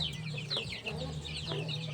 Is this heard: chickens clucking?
yes